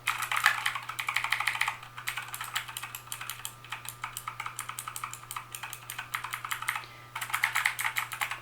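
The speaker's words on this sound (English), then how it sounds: "so they're clicky keys" Clicky switches on a Motospeed CK104 mechanical keyboard are pressed in quick, steady runs of sharp, close clacks for several seconds, with brief pauses between bursts and a low constant hum underneath.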